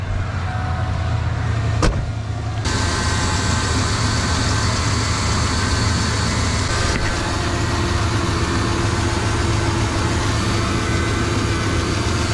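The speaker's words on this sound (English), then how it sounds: "Turn the old truck back on." A 1996 Ford Bronco truck engine idles with a steady low rumble and broad hum, close by, after a brief click and a whirring start near the beginning.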